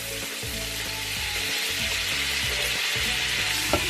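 Butter and olive oil melt and sizzle in a pan, a steady close frying hiss with a faint rhythmic pulsing underneath and no talk.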